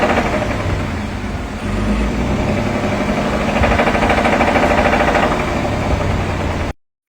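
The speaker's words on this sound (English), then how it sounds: "Let's listen to this engine" A 2024 Toyota Tundra TRD Pro pickup engine with bearing trouble runs steadily at idle, a continuous low rumble with a faint rhythmic knock, close by, ending abruptly.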